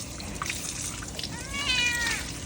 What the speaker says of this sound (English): he's a nice little cat